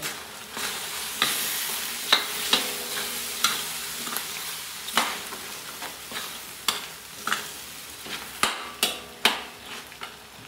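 Chicken adobo with green peas being stirred in a pan, the spoon scraping and knocking against the metal in a steady irregular rhythm over a soft background sizzle, close and moderately loud.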